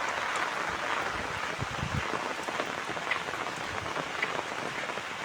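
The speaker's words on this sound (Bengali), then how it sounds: "সকাল ধরে প্রচুর বৃষ্টি," Heavy rain pours steadily in a rural village, a dense, continuous roar of drops on surfaces with no break, close and enveloping, with no voices.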